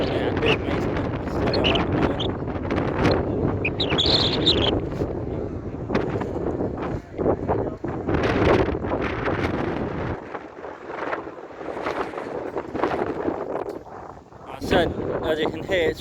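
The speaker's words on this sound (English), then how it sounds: "As you can hear, it's windy" Strong wind buffeting the microphone at a seaside ferry port on Fuerteventura in the Canary Islands, a steady roaring rumble with gusts, while people talk over it.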